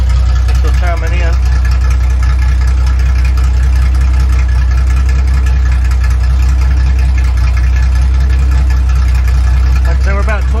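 A Datsun 260Z with an open header and 2.5-inch exhaust idles loud and close, a steady deep rumbling drone that never lets up for ten seconds.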